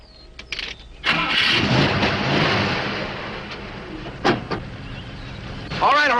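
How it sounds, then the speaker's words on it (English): A car engine cranks and catches, then runs as the car pulls onto a hard surface, a steady broadband rumble with a few sharp knocks and clatters and some rising whine near the end, heard up close. "Move the car onto the hard surface."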